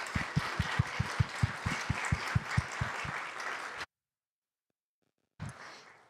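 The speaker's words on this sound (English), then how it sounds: "Let's give her a round of applause." Applause at a county managers' excellence awards ceremony, many hands clapping with a steady rhythmic beat for nearly four seconds, then a sudden silence before a brief burst of clapping resumes.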